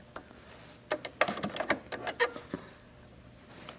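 A Bernina sewing machine stitches in a short, quiet burst of rapid mechanical clicks and taps, with silence before and after.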